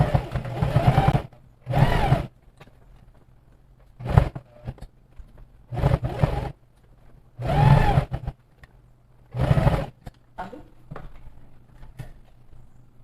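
Sewing machine stitching outer fabric to lining with a 1 cm seam allowance, running in several short close bursts separated by quiet pauses.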